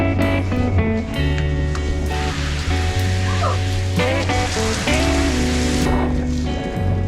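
Heavy rain pours down steadily on a road trip stop, a dense constant hiss of drops hitting surfaces with a few sharper taps and clatters layered over the continuous wash.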